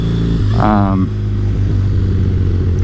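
A Triumph Bonneville motorcycle is ridden with a loud, steady engine drone and a brief throttle rise and fall, heavy wind rumble throughout, and a voice talking briefly over it.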